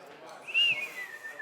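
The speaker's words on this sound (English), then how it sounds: "That's the best I can do for a whistle." A person at a conference event tries to whistle, producing a single short, thin tone that rises and falls in the middle of the moment, only moderately loud over faint room background.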